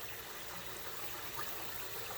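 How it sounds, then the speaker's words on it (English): Cold tap water runs steadily over freshly boiled eggs in a kitchen pot, a soft, even hiss and splash that continues without a break. "we're going to turn our tap water on cold."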